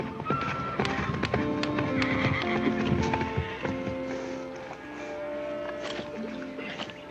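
A horse neighs and snorts over the steady clip-clop of hooves, fairly close.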